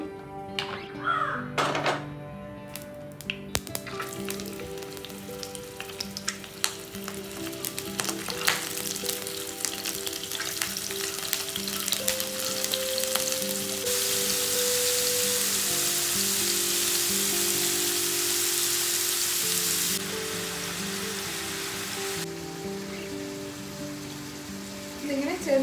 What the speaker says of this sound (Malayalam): ഇതിങ്ങനെ ചെറുതായിട്ടൊന്ന് ഫ്രൈ ചെയ്തെടുത്താൽ മതി